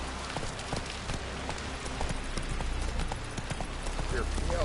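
Hooves of Roach, a horse in the video game The Witcher 3, clip-clop in a steady rhythm amid rain and ambient game sound, with a voice speaking over them.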